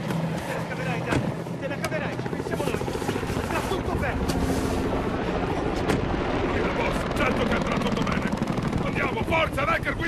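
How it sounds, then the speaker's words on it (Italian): Helicopters return over a Battlefield 4 battlefield, a dense, continuous rotor and engine roar mixed with gunfire and explosions, loud and sustained throughout, with shouted voices underneath. "Gli elicotteri stanno tornando, andiamo!"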